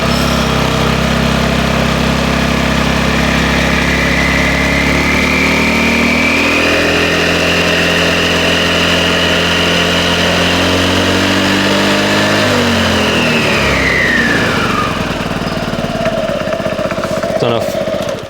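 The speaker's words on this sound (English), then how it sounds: "So accelerate and the back wheel will start to spin." A Honda Forza 125 scooter engine revs up steadily and loud while its rear wheel spins freely off the ground, the pitch climbing for several seconds before easing off near the end. A voice speaks over the engine noise.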